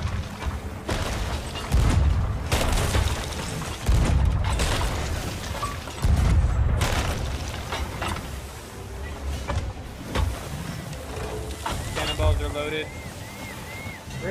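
Cannon fire from a pirate ship in the video game Sea of Thieves: several heavy booming blasts at uneven intervals over sloshing waves and creaking ship noise, with a voice talking throughout.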